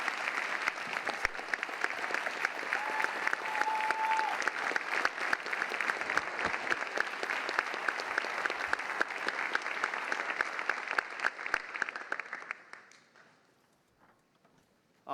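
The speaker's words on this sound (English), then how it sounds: "Let's give him a round of applause" Loud, sustained applause from a large crowd, dense clapping that holds steady for about twelve seconds before fading out quickly.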